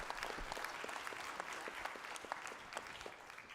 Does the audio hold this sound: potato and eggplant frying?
no